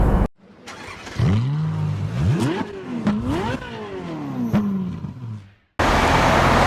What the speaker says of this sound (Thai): เครื่องยนต์ก็เดินนิ่งนะครับเห็นไหมครับเร่งสมูทเลยครับ